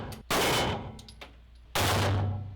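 Firearms go off at a gun range with a backstop, making two loud, sharp reports about a second and a half apart, and each one rings on into a fading echo.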